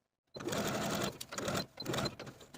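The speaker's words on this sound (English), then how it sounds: "Sew your basting stitches with about a 1/4 inch seam allowance, leaving thread tails at the beginning and end of your stitching." A sewing machine runs basting stitches with a quarter-inch seam allowance, starting after a brief silence and whirring in three close bursts with short pauses between them.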